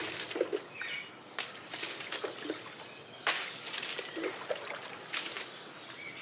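Water sprays in repeated rushing bursts over an Indian rhino at bath time, with hissing gushes broken by brief pauses and small splashes.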